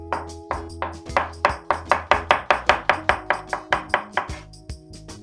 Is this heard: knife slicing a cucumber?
yes